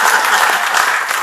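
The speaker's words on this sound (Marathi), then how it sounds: "आपण टाळ्या वाजवताय" An audience at a live talk with a well-known lawyer bursts into dense, loud, continuous clapping that fills the whole short moment.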